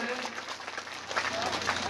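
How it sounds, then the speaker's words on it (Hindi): A ceremony honouring martyrs who died defending the nation, with the audience giving the martyr's widow a steady, dense round of clapping that fills the space evenly throughout. "जोरदार तालियों से अभिनंदन करें"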